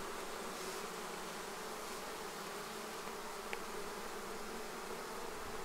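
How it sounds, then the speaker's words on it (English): Drone honeybees flying around a hive on an iron T-post stand, a continuous broad buzzing drone holding steady at moderate distance, with one tiny click partway through. "the noisy bees that you hear flying through, those are drones"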